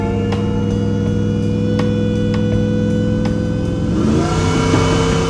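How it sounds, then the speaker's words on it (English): A supercharged Hellcat Redeye V8 swapped into a Jeep Grand Wagoneer, breathing through mufflers and 3-inch mandrel-bent stainless steel exhaust, rumbles loud and steady up close, with sharp ticking transients over the drone before the note climbs in pitch near the end. "A combination of mufflers and 3-inch stainless steel pipe that's mandrel bent allow for this engine to roar properly"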